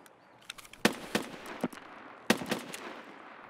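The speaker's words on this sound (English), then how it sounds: "I'm getting shot at." Gunfire in the shooter game Escape From Tarkov: a few sharp, loud shots ring out in scattered bursts, a pair close together and then a lone report, each trailing into brief echo.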